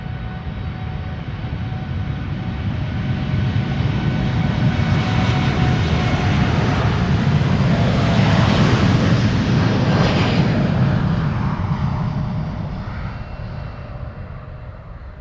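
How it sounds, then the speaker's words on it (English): A new United Boeing 787-9 Dreamliner jet roars past on departure at Amsterdam Schiphol, a loud broad engine rumble swelling to a peak midway and then fading as it moves off. "This is United flight 908 to Chicago O'Hare. 7879 Dreamliner."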